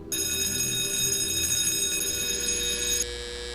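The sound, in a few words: telephone ringing in a TV episode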